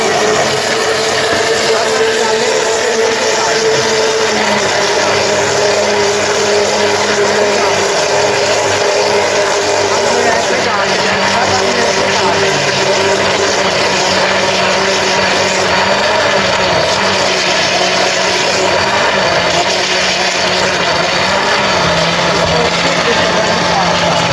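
An electric blender whirs as it mixes a carrot milkshake with milk and sugar, a loud, constant motor drone with a steady hum that holds unbroken throughout.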